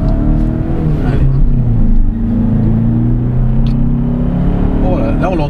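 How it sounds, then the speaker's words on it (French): Volkswagen Passat 1.6 TDI diesel engine droning steadily while the car drives at around 90 km/h, a continuous low rumble heard from inside the cabin with people talking over it. "Bon, là on l'entend quand même le moteur."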